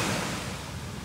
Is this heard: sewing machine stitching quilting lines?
no